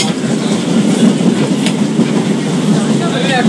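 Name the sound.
local train from Sealdah to Namkhana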